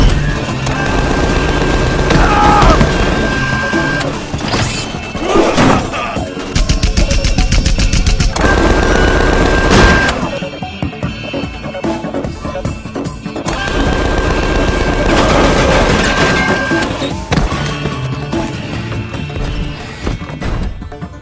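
Machine gun fire from a turret in a video game, loud sustained bursts in several long volleys separated by brief pauses and crashing impacts.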